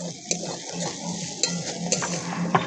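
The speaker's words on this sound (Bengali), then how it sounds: "পেঁয়াজ রসুন ভাজা ভাজা হয়ে গেছে।" Chopped onion and garlic fry in a pan with a soft continuous sizzle, while a spatula stirs and scrapes against the metal in sharp, irregular clinks.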